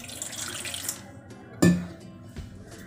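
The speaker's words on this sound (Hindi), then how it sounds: "और इसमें डालूँगी मैं थोड़ा सी पानी।" Water from a kitchen tap splashes briefly into a bowl of salted flour for samosa pastry dough, a short close gush followed by a sharp knock and faint drips, with no voices.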